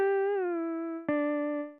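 A dry, clean guitar sound font, played without vocoder or distortion plugins in a beat production, gives a pure harmonic tone that slides slightly. A second plucked note follows and fades out. No voices are heard.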